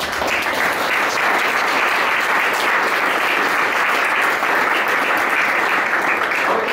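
Audience applause for the panelists at a Docker Q&A panel session, a dense, sustained wash of many hands clapping at an even loudness from start to finish.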